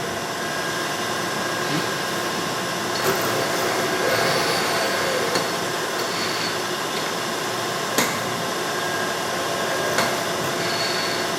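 A 1.5-inch milling cutter spinning at 1200 RPM on a lathe setup produces a steady broadband machine whir and hiss, with a few sharp metallic ticks and clunks, close and continuous with no talking.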